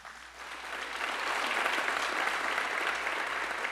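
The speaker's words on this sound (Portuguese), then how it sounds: "Pode dar uma grande salva de palmas a Ele." Church congregation applauding during a sermon, a steady dense wash of clapping that swells slightly and holds, moderately distant, with no talking over it.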